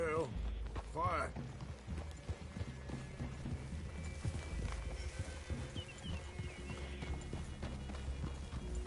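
Horse hooves clip-clop at a walk in Red Dead Redemption, a steady plodding rhythm in the game world under ongoing voices and ambient sound.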